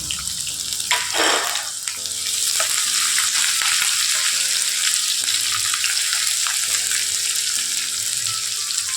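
Chopped onion and green and dried chilies fry in hot oil after mustard seeds splutter. The pan gives off a continuous loud hiss and sizzle, with stirring scrapes and background music playing under it.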